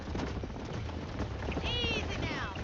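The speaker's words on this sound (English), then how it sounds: "There's the horses!" Horses galloping in the Western video game Red Dead Redemption, a rapid hoofbeat patter under game music and a shouting voice, with a brief whinny-like cry near the end.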